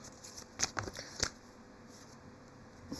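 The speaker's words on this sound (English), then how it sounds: "Sorry, I'm going to shuffle again." Tarot cards shuffled in a quiet room, just a few soft, close papery flicks clustered together, followed by near silence.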